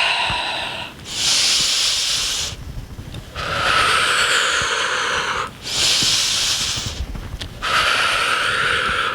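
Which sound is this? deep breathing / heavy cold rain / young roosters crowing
deep breathing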